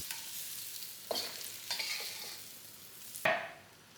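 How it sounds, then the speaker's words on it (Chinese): Salted fish frying in hot oil in a wok for a pork belly claypot, a steady hiss with a few sharper crackles and sputters as pieces are turned, close and moderately quiet, no voices. "咸鱼进来，把咸鱼炸香"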